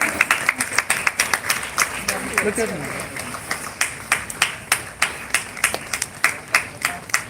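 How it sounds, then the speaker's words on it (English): A crowd of schoolchildren claps at a school council investiture ceremony, with dense scattered applause at first, then thinning into a slower, fairly even run of individual claps, and a voice speaks briefly in the middle. "A big round of applause for her again."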